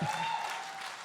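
Applause from a comedy show audience, a short, dense burst of clapping at steady loudness.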